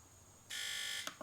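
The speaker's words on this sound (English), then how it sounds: "We know the beeper works." An electronic beeper on a Sea-Doo GTX DI personal watercraft sounding a single steady tone for about half a second, followed by a couple of short clicks, faint against a background hum.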